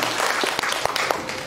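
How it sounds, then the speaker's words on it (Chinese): Audience clapping to welcome a professor at an academic lecture, a dense, fairly loud burst of applause from many hands, brief and steady. "再次掌声欢迎赖教授。"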